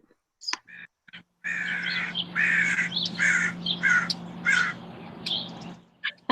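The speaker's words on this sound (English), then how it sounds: "Hear the birds." Several crows caw loudly in a rapid run of harsh calls outdoors, with a low steady hum underneath and a few brief clicks before and after.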